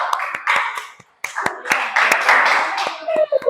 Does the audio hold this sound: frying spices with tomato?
no